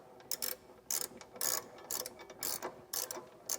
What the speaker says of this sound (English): it's really nice to have a long ratcheting wrench like this